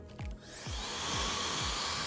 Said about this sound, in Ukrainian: якщо ти кладеш, він в тебе звичайний фен просто працює і роздуває все в тебе на столі